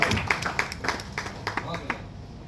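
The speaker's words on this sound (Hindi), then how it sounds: "जी, बिल्कुल जोरदार ताली बजा लीजिए नारायण पंडित के लिए" Audience clapping at a leadership event in Malda, a steady patter of hand claps at moderate level that thins out over a couple of seconds.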